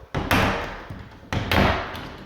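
A closet door with a double ball catch swings shut twice in a newly built house, each close a sharp knock and thud followed by a brief rattle.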